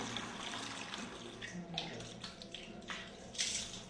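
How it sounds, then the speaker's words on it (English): Water splashing and running as a child is washed during a bath in Aceh, Indonesia, irregular pours and splashes over a continuous wash of noise. "We'll wash you with water."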